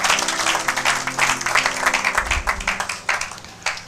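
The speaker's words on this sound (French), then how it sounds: "Acclamons pour la gloire de notre Dieu et de notre Seigneur." A church congregation claps together during a French-language sermon, producing dense, steady applause with scattered sharper claps throughout, with no voices.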